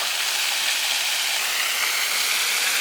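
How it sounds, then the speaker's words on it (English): A large waterfall roars as a steady, broad hiss of rushing water, constant and unbroken, with no voices. "over here there is a massive waterfall"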